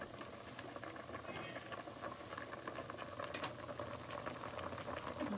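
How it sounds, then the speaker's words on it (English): A pot of pasta water at a gentle boil, with soft continuous bubbling and popping close by, plus a few sharper clicks and small bursts, no talking. "It's just bubbling a little underneath."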